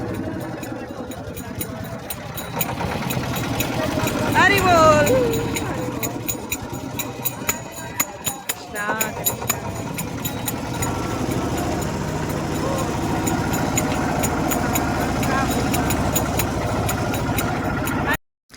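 A motorboat engine drones steadily at a constant pitch throughout, on the river at the Kashi ghats, with voices talking over it, before the sound cuts off abruptly at the end.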